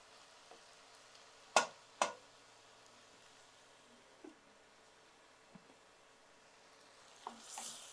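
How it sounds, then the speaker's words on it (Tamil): Eggplant sautés in a pan under a faint, quiet sizzle, broken by two sharp utensil clacks early on and a few softer stirring taps and scrapes afterward. "இந்த பக்கம் இந்த கத்திரிக்காயை ஒரு கிளறிடலாம்."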